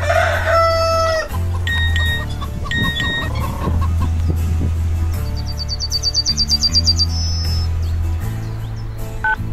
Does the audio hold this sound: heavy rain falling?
no